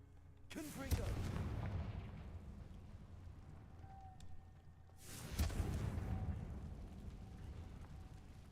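A Confringo blast spell explodes in a wizard video game, landing as two loud booming bursts, the first near one second and the second around five seconds, each trailing off into a rumbling decay. Voices talk faintly between the two.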